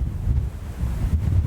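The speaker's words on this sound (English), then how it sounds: "Gosh, it's so windy." Strong wind buffets the microphone in steady low rumbling gusts, with no voices, loud and constant throughout.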